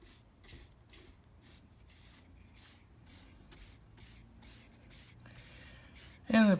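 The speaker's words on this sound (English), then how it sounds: "it covers very smoothly with one brush stroke. And then we'll continue the other side" Paintbrush strokes laying paint onto exterior trim during a repair, a regular series of soft brushing swishes about every half second, close and quiet, ending in a short loud bump.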